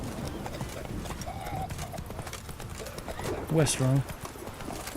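Roach the horse gallops along a road in The Witcher 3, a steady clip-clop of hooves with a short neigh near the end, under game ambience while someone talks over it.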